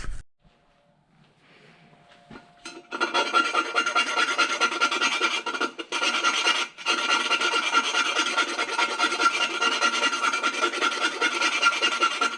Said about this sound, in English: So now I've got some edges I need to do something with, file away